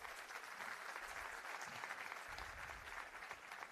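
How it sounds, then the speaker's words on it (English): Audience at a Cloud Community Days tech event in Bhopal applauds steadily, a dense wash of many hands clapping at moderate loudness throughout, with no speech over it. "Can you clap for them,"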